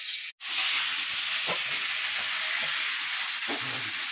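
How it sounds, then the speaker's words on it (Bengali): Potatoes frying in oil give a steady, close hiss and sizzle that runs almost unbroken, dipping once briefly near the start, with faint stirring scrapes over the top. "ওইদিকে আলুটা আমার মোটামুটি ফ্রাই হয়ে এসছে"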